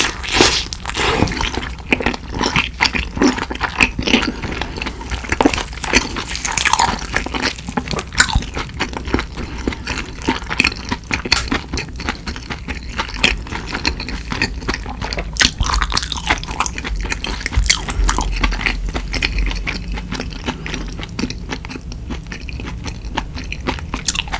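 Close, detailed chewing and biting sounds come from someone eating very spicy kimchi and rice cake dumpling soup, with wet crunches, slurps and squishy mouth noises repeating steadily throughout.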